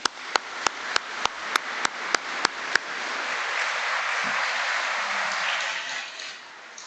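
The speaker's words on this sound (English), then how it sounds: "would you please join me in a round of applause for all the nominees and then all the nominators" A crowd at the Rochdale Diversity Awards in Rochdale Town Hall applauds the nominees, opening with a run of sharp evenly spaced claps before swelling into a broad, steady wash of applause that fades near the end.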